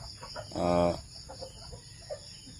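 Backyard pet chickens give a single short clucking call at close range, a brief harmonic burst standing out over quiet yard ambience with faint scattered sounds.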